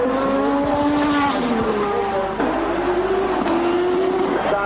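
Formula 1 cars from 1986 race at the German Grand Prix, their engines howling in a loud, continuous whine that rises and falls in pitch as the cars pass, with a rough rumble underneath throughout.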